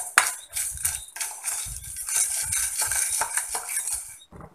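Black pepper, cumin and other whole spices being dry roasted together in a pan for homemade meat masala powder: a spoon scrapes and clinks against the pan in a busy, irregular stirring rhythm, close and fairly loud.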